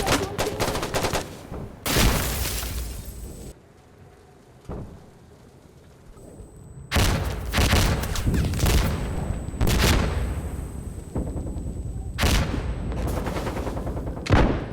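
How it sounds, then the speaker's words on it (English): Dense bursts of rapid gunfire and booming blasts from the video game Insurgency: Sandstorm crash in waves, broken by a brief quieter lull before the barrage resumes loudly. "The bullets flying by, the dying people screaming in agony, and the explosions"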